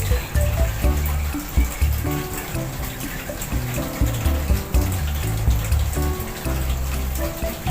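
Water running from a pipe into a homemade water heater as it fills, a loud close gushing and splashing with a low churning rumble, continuous throughout without speech.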